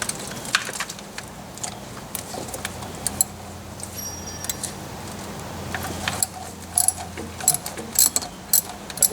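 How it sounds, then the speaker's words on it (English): A ratchet with a 10mm socket loosening the grounding bolt on a Honda Accord's thermostat housing, with quiet clicking and scraping over a steady background hum and a few sharper metallic ticks toward the end. "let's jump right in and remove the grounding bolt first. Okay, so we're using a 10mm socket."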